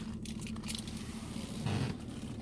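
A bunch of keys jangles and clinks close by in short metallic bursts as they are picked up near a truck.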